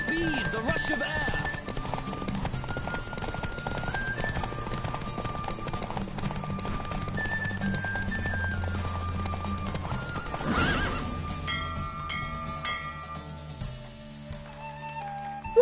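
Rhythmic clip-clop of a galloping horse in The Witcher 3, with neighing and whinnying over a musical score and a voice talking, hooves continuous and fairly close before a brief swell and calmer tail.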